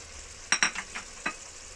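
A spoon stirring red chilli powder and turmeric into tomatoes frying in a pan, a few quiet scraping clinks over a soft background sizzle.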